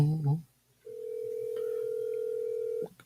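A telephone dial tone sounds as a steady, unbroken hum for about two seconds while a call is being placed, following a short burst of voice at the start.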